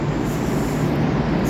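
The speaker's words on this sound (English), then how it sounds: "There's another metro train coming in over there." A Melbourne metro train rolls into Southern Cross station as a steady, even rumble of wheels and motors, moderately loud and continuous across the platform, with no voices.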